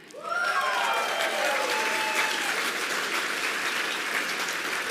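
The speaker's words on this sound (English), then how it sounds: "Let's give them a round of applause." Audience applause fills a hall at a university awards-style gathering, a dense steady wash of clapping that swells quickly and holds loud and continuous, with a few whistles rising over it.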